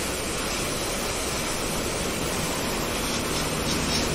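Water spray washes a Royal Enfield Meteor 350 motorcycle, a steady loud hiss of pressurized water hitting the bike that holds constant throughout with no pauses.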